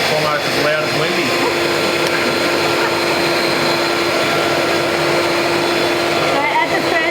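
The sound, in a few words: electric mixer with dough hooks mixing choux pastry dough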